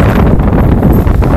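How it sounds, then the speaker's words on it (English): Strong gusting wind buffets the microphone outdoors near a farm and forest by Loch Ness, a loud, continuous low roar with no voices. "It's really windy."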